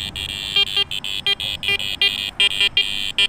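Apex metal detector sounding iron tones over a test board: a steady buzzing, high-pitched drone broken by repeated short beeps and blips in an uneven pattern, close and fairly loud with no voices.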